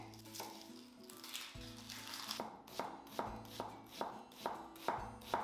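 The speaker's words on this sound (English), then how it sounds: "Chop 1 large onion" A knife chops a large onion on a cutting board for carrot soup, first scattered cuts and then a steady run of sharp, close chops with a faint sizzle behind them.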